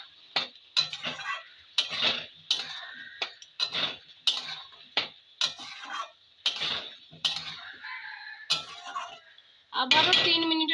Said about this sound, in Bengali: আরো ভালো করে আমি কষিয়ে নেব।